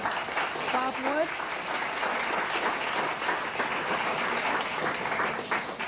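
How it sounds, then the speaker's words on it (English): Applause from a dinner audience at a Freedom Party event, a steady wash of clapping running through the whole stretch with some voices mixed in. "You were clapping."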